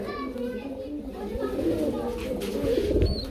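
Pigeons coo softly in a steady low murmur close by at a pigeon sale, with someone talking over them and children's voices in the background.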